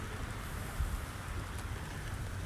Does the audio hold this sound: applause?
no